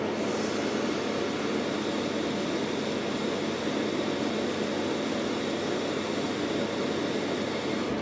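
A hot air rework station blows a steady, even rush of air to reflow solder on small components, a constant broadband hiss with no breaks and no talking.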